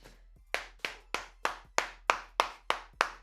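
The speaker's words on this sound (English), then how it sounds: "Clap it up for Nick Roloff." Nine crisp, evenly spaced hand claps, close and fairly loud, with a slow steady rhythm and no other sound between them, as an ovation for a basketball player after a Game 7 performance.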